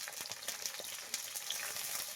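Cut potato, onion and tomato sizzle together in hot mustard oil, a soft, steady crackle with small popping bursts, heard close and fairly quiet.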